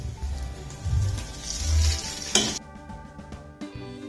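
Curry leaves sizzle in a hot pan for a Kerala-style coconut crab curry. Loud frying hiss and stirring scrapes give way to quieter crackling with a few utensil clinks.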